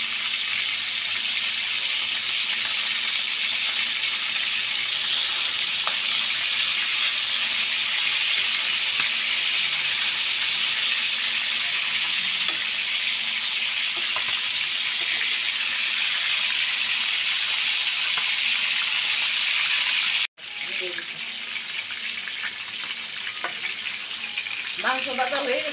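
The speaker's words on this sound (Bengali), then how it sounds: "মাংস হালকা করে ভাজবো" Large chicken pieces shallow-frying in hot oil for chicken korma, a steady dense sizzle and hiss close up throughout, with a brief break where the pieces are turned and faint clinks of a utensil.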